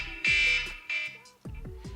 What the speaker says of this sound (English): that beeping, it is my smoke detector